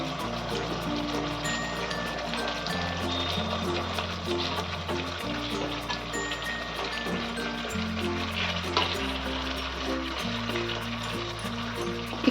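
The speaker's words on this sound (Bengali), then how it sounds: "এরপর আমি এর মধ্যে দিয়ে দেব মাছ ভাজাগুলোকে একে একে" Fried katla fish pieces go one by one into a sizzling yogurt gravy in a pan, giving a steady, continuous frying hiss throughout with no talk.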